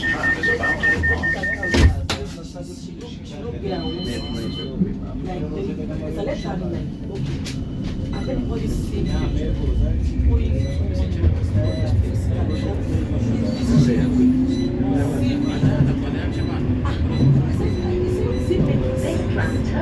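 A West Midlands Metro tram pulls away from Lord Road, West Bromwich Town Hall stop, with a steady low rumble of motors and wheels building gently throughout, a brief chime near the start, and onboard announcements talking over it.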